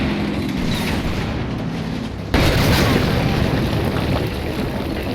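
A tank cannon fires in the WWII tactical game Combat Mission, set in Italy in 1943, as one loud, sudden boom that cuts through steady rumbling battle ambience and leaves a heavier roar behind it.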